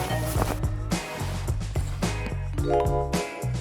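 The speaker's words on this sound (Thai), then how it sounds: "มีคนกดกริ่ง" A doorbell rings in a home, its chime tones sounding loud and close and repeating across the few seconds with no talking.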